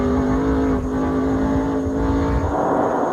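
Race cars at a 1999 road-course event, with Dale Earnhardt Jr. leading; a sustained high engine whine with a steady tonal drone and a shift in pitch near the end, loud and continuous without talk.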